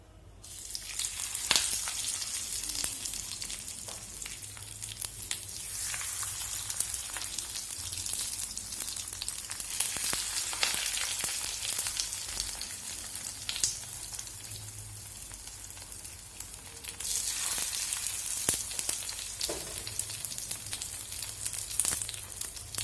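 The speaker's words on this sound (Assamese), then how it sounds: "এতিয়া মই এই পাতটো ভাজি ল'ম।" Shewali leaves coated in paste fry in hot refined oil in a wok, giving a steady close sizzle with crackling pops and brief surges of hissing throughout.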